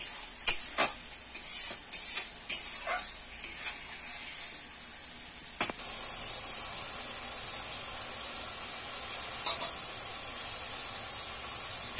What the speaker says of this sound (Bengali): এবার হালকা একটু জল দিয়ে ভালো করে কষিয়ে নেব।